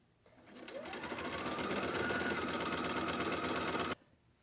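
A sewing machine chain-pieces quilt pieces in one continuous run of rapid, steady stitching that spins up, hums along close by for a few seconds, then stops abruptly.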